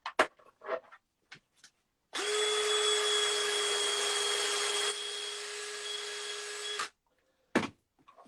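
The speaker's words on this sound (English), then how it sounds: "that is just a few seconds there with the wire brush attachment" A power tool with a wire brush attachment scrubs a galvanized metal surface in one continuous whining, grinding burst of about five seconds, flanked by a few short clicks and knocks.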